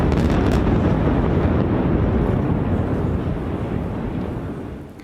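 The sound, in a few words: explosive demolition of two remaining bridge pillars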